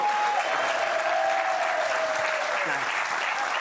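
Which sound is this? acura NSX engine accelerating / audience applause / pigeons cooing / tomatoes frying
audience applause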